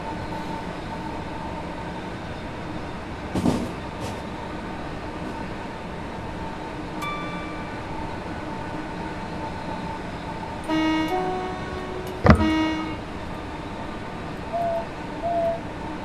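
Train running on the Medway Valley Line in Train Sim World 6, heard with the cab window open: a steady rumbling roll with a short horn-like toot and clanking tonal bursts near the end, no talk.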